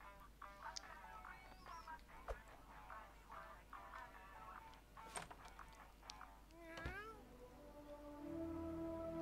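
A cat meows repeatedly in the South Park: The Fractured but Whole video game, several short, fairly faint mews spread over background ambience and game sounds, with no talk.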